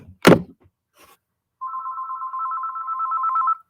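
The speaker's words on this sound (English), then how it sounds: "somehow or other, my phone is ringing" A phone rings with a steady electronic trill lasting about two seconds, preceded by a brief knock and a faint rustle.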